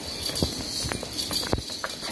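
A buffalo's hooves strike the ground as it is led out to walk on a farm, a few separate thuds and clops at an uneven walking pace, fairly near, with no speech.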